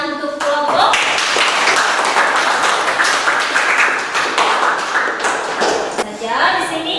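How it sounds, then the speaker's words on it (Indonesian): Students in a classroom clap for a presenting group, with dense, bright applause lasting several seconds, loud and close, and voices mixed in toward the end. "Tepuk tangan untuk kelompok."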